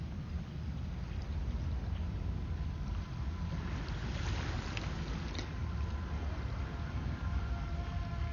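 An Autel Nano+ drone flies at full speed, about 43 km/h, in calm, windless air. A steady, dense rushing whir with faint tonal whine holds evenly throughout, with no voices.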